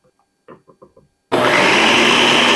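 A food processor blends almond flour, powdered sugar and egg white for marzipan, starting abruptly after a few soft handling knocks and running as a loud, steady whirring roar up close.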